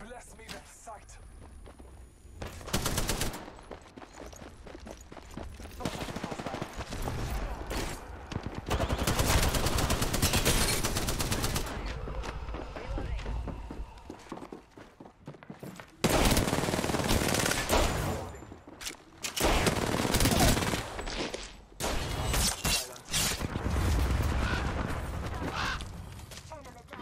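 Repeated bursts of automatic gunfire in the Xbox Series X game Apex Legends, loud and close, come in clusters with short quiet gaps between them, and voices talk in between.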